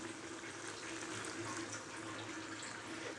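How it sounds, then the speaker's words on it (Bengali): Cornflour slurry poured into a pot of lemon chicken soup, giving a steady, close liquid pour and splash that continues without a break. "এবার আমি কর্নফ্লাওয়ার তারপর জলটা দিয়ে দেবো।"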